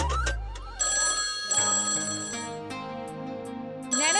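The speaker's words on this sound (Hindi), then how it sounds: "ये हमारा फोन है, 2 बार बज के कट हो जाता है।" Home telephone rings, its electronic bell trilling loud and close in bursts over a low background.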